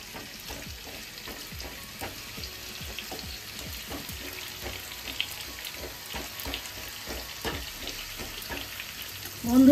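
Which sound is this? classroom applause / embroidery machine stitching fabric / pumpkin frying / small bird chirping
pumpkin frying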